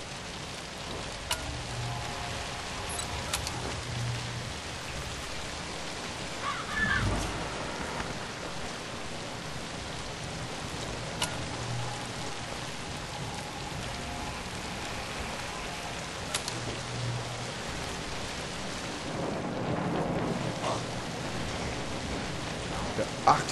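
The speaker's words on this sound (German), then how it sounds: "Es regnet, es regnet." Steady rain hisses throughout a scene in the game Zombi, set in London, with a low thunder rumble and scattered faint game sounds mixed in.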